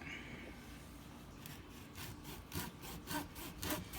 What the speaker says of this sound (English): first you're going to shave off this stem or stalk or whatever you want to call it